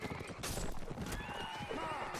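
In a multiplayer video game battle, a horse whinnies loudly as it goes down amid clattering hooves and mixed combat noise, with a commentator talking over it.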